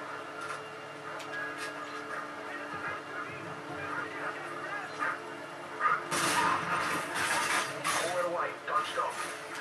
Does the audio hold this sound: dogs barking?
yes